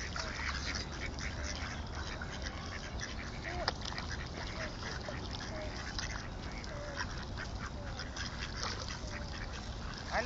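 Swans on open water being fed, calling with honking, quacking-type cries over a steady outdoor wash of wind and water, with a sharp sound near the middle; a few faint voices sit low in the background.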